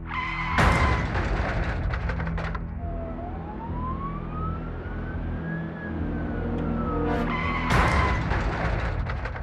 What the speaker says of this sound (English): The Mini spins into the road before coming to a stop.